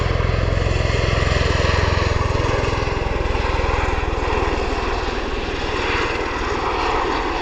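Rotor aircraft approaching at RAF Mildenhall airbase, a loud, throbbing engine and rotor drone with steady rhythmic pulsing, close and continuous, slightly easing toward the end, no talk.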